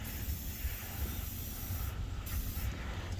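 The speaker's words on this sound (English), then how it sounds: "I can give that one right there a good spray." Penetrating catalyst sprayed from an aerosol can onto a seized bolt during steering and wheel repair, a steady close hiss running throughout without pause.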